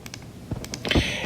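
Quick plastic button presses on a calculator, a handful of light clicks followed by a firmer clack and a brief electronic tone, close and moderately loud, with no talking.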